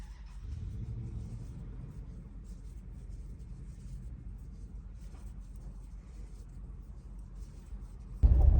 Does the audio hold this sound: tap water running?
no